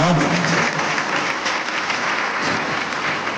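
A crowd at a children's day award event applauds, with dense, steady clapping from many hands throughout, with no voices.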